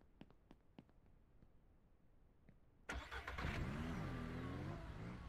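A car engine in the video game Ranch Simulator 3 cranks and catches after a few quiet clicks, then revs loudly with rising and falling pitch and settles into a steady, close, roaring run.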